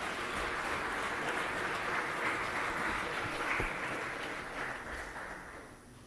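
A large audience at a formal diplomatic gathering claps in sustained, dense applause that holds steady and then gradually thins out toward the end.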